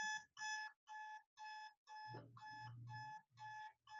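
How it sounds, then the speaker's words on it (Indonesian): An alarm from Vijeo Citect SCADA software for a perfume factory plant signals a full tank with an electronic beeping tone in a steady rhythm of evenly spaced pulses, with a brief low murmur partway through. "kita tunggu hingga alarm berhenti"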